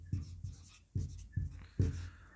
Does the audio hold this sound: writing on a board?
yes